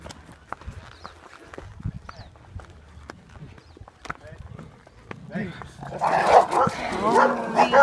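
A dog joins a group on horseback during a guided ride, with clopping hooves and scattered sounds under a stretch of talk, then a louder, busier burst of barking and commotion toward the end.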